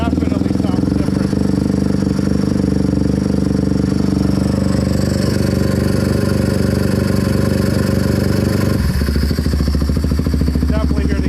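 A Kawasaki KFX 450R ATV engine with an aftermarket intake runs loud and close with a throaty, steady drone, shifting to a rougher, lower chug near the end.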